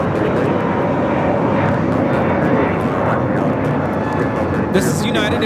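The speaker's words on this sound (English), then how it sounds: "This is United Airlines 1069 taking off to Chicago on the A321neo." A United Airlines Airbus A321neo taking off at LAX roars loudly and steadily throughout, with a person talking over the engine noise.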